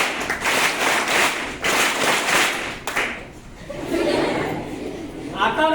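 A group of students claps together in a counting clap game at a government ashram school's Constitution Day event, producing bursts of crisp, loud, broadband claps with pauses between rounds and voices mixed in.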